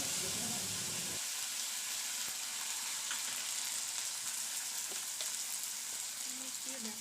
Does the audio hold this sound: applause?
no